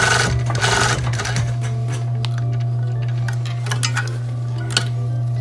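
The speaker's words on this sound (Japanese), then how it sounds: "ちょっと試し縫いとかして" Sewing machine running a steady test stitch on a white trouser hem, a continuous low motor hum with ticking needle rhythm, close and fairly loud throughout, with a louder burst at the start.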